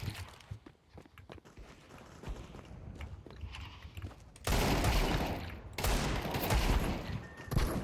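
Video game AK rifle gunfire starts as sparse sharp shots and clatter, then erupts into a loud, dense burst of automatic fire that pauses briefly and resumes.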